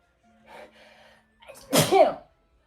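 A single loud human sneeze, preceded by a faint sharp inhale and a brief murmur in the background, heard close and alone.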